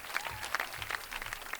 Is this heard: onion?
no